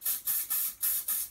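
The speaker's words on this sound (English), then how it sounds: "I can spray right into that crack, and it's not so deep that I can't trust that some of the silicone spray is gonna make its way in" Silicone spray from an aerosol can hisses onto the plastic joints of a stroller in five short bursts, each a sharp, close-up hiss with brief gaps between.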